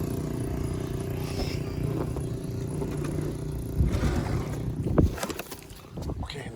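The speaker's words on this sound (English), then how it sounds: "Jazz and Mama is on the four-wheeler." A four-wheeler ATV engine rumbles low and steady nearby, with wind buffeting the microphone and a few louder bumps and surges along the way.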